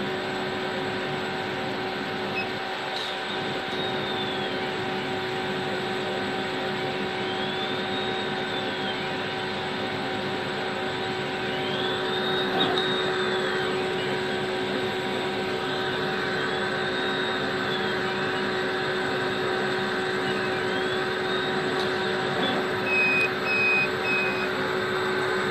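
A laser cutter slices 6 mm solid cherry wood at 95% power and 18 mm per second. It gives a steady, loud mechanical whir with fan and air hiss, and a repeating rising-and-falling whine as the head travels. No one speaks.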